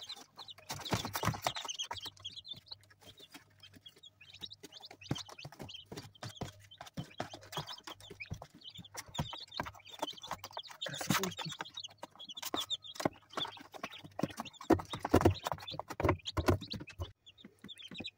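A broody hen with newly hatched chicks clucks softly in a farm setting, with faint scattered peeps and clicks alongside low, quiet background noise.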